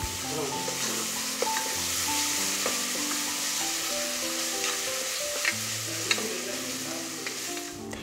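Sliced onions browning in a pan with ginger garlic paste, a continuous close sizzle with sharp crackles and pops, and a low tonal hum running underneath.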